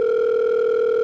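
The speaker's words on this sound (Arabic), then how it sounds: "في ديك اللحظه صونا تليفون ديال عادل" A telephone tone sounds in a dim, empty-feeling moment, a steady loud unbroken electronic tone with a strong overtone, held throughout with nothing else audible.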